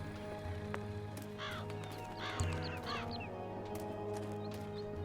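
A crow caws several times in the video game Dreamfall Chapters, the harsh calls coming in short clusters over a steady ambient hum, with other bird calls mixed faintly into the background.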